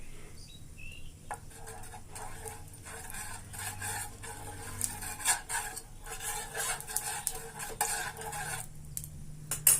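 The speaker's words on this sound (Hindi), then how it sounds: "तो इसमें हम पहले थोड़ा सा तेल डालेंगे और तेल को पूरी पेंदी में हम लगा लेते हैं।" A spoon scrapes repeatedly across an oiled frying tawa, spreading the oil in a rhythmic series of soft rasping strokes near the microphone, with faint bird chirps in the background.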